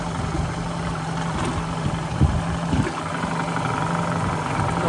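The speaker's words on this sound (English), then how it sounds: "Engine's running at idle." Idling engine of a 2004 Glacier Bay 2680 Coastal Runner boat, a steady low hum with an even drone and a couple of brief knocks, close and continuous with no talking.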